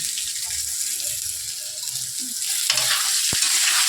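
Steamed radish with chopped ginger and a little salt frying in a pan, giving a steady close sizzle that grows slightly louder toward the end, with a single sharp knock near the finish and no talking.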